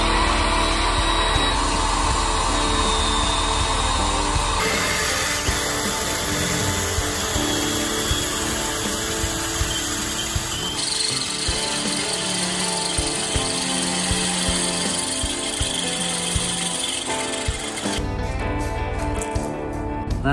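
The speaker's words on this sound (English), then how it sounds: "Alright, I'm gonna put a couple bolts in this thing and we're done." A power tool drives bolts into a trailer build, whirring loudly and steadily in long runs that change pitch at a few points.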